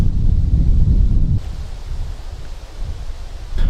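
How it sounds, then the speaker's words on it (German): Wind blowing across a lakeside camp during an outdoor survival challenge, a loud, rough, low rumble that buffets the microphone for over a second before easing into a softer, steady rush. "Was mich allerdings so ein bisschen stört, ist der Wind, der hier weht."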